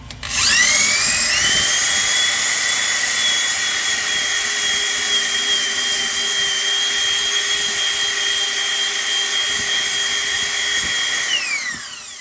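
A power grinder buffs a rubber tube for a vulcanized puncture repair, a loud steady high whine held for about eleven seconds, spinning up at the start and winding down at the end.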